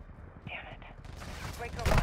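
Gunfire in Call of Duty: Modern Warfare 2, a short burst of rapid shots and scraping clatter building louder toward the end, with game noise underneath.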